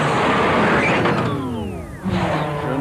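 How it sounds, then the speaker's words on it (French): A truck rumbles past in a cartoon scene, its engine tone sliding downward in pitch as it goes by, loud and close with no voices. "Il y a un camion"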